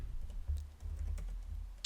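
Quiet, steady clatter of keys as a terminal command is typed on a computer keyboard, close and fairly soft over a low hum, with no voices.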